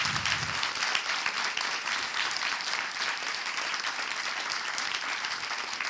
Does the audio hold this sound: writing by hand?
no